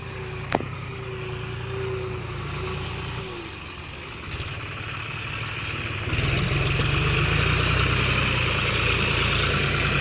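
An Eicher 241 tractor with a trolley runs at slow revs in first gear, its steady engine drone rising slightly louder partway through, with no talking.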